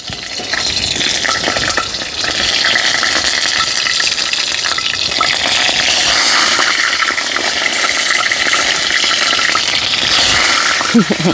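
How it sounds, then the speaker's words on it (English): Green breadfruit frying in well-heated oil in a pot during outdoor Jamaican bush cooking, a loud, steady sizzle with bubbling and stirring that runs continuously for the whole stretch. "Alright, so right about now, I go in with the breadfruit them. Oil well hot."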